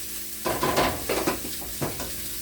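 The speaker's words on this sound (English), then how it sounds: "add my basmati rice and just give it a little bit of a stir" Basmati rice is stirred in a pot of boiling water, a few close scraping stirs in short bursts over a soft bubbling hiss.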